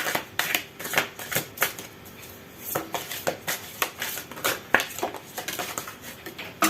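Oracle cards from the Reflet de l'âme deck are shuffled and drawn, giving a close run of rapid papery riffles and slaps in uneven bursts, with no talking.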